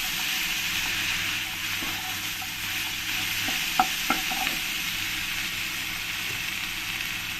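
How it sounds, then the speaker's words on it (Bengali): Ginger paste and ground spices frying together in a pan for a tilapia ghuna: a loud, steady, close sizzle that hardly changes, with a few light utensil clinks near the middle. "দিয়ে আমি একসঙ্গে ভালো করে ফ্রাই করে নেব।"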